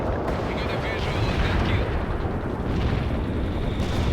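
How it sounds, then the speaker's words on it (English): Heavy artillery strike in the strategy game World in Conflict: dense, continuous rumbling barrage of booms and blasts, loud and close, with radio-style voices talking over it. "Heavy artillery strike fire."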